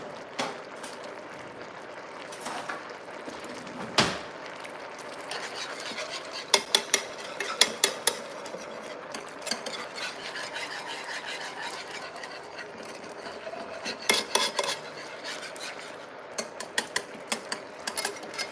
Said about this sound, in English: Okay, let me get the whisk.